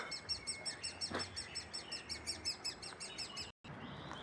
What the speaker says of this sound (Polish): Ale ptaszek nadaje.